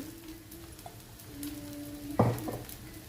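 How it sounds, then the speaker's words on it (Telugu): Pongana dosa batter with onions fries in oil on a pan with a steady, close sizzle. A sharp clatter of a utensil against the pan cuts in near the end. "ఇప్పుడు పైన లైట్గా కొద్దిగా ఆయిల్ వేసుకుందాం."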